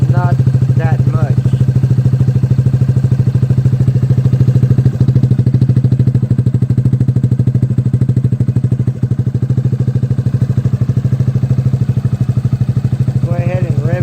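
A Honda Grom motorcycle fitted with an M4 exhaust idles steadily and loud up close, its low, even putter holding throughout with a few faint voices briefly audible in the background.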